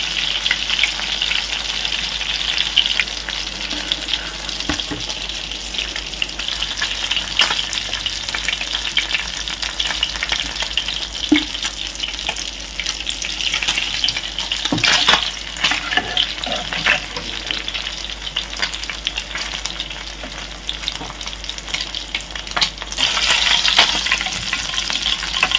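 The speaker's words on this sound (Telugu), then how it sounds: "కొద్దిగా లో ఫ్లేమ్లో పెట్టి చూడండి ఎంత చక్కగా ఫ్రై అయిపోయినాయి" Pieces of fish fry in oil over a low flame, a dense, continuous crackling sizzle heard up close for the whole stretch, with occasional louder pops.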